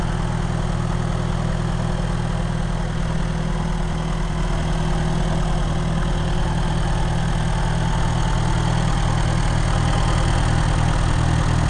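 A vintage Kohler Lightplant 4 kW, 110 V generator runs steadily at close range, giving a constant loud low engine drone with an even mechanical throb and no pauses.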